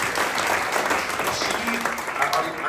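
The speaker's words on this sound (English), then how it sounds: "Round of applause for Austin, please." Audience applause at a town event honoring a local official in Salisbury, a steady dense wash of clapping with some voices mixed in, fairly loud and continuous throughout.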